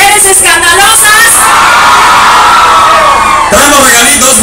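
A crowd of women at a concert shouts and cheers loudly and continuously, a dense roar of whoops and yells filling the space, with no clear speech.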